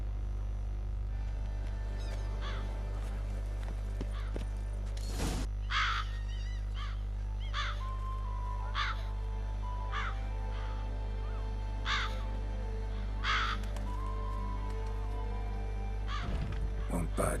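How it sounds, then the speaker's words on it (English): Several crows cawing at a steady pace in The Witcher III: Wild Hunt, the harsh calls standing out over a low constant game hum, one louder call near the middle. "there's a lot of crows here."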